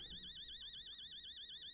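A warbling electronic alarm sounds inside a house in the horror game Fears to Fathom, rising and falling in rapid, regular cycles, steady and fairly quiet.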